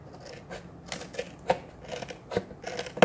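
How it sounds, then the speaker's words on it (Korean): Scissors trimming rough edges of napkin glued onto a PET bottle craft, giving a few quick, light snips and crisp clicks spread across a short, quiet stretch, close up with no speech. "지저분한 곳은 이렇게 가위로 좀 더 다듬어 주고요"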